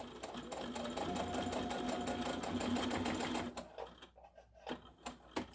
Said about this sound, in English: And you're just going to sew all the way around the entire